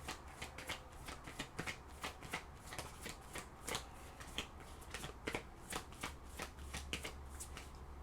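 Oracle cards are shuffled by hand in a quiet room, giving a fast, even patter of crisp paper riffles and slaps that keeps going throughout.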